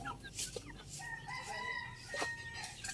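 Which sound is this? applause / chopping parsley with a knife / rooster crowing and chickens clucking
rooster crowing and chickens clucking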